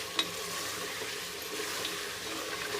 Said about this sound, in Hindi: अब हम इसमें ये टमाटर और हरी मिर्च शामिल करेंगे और इसे अच्छे से भून लेंगे।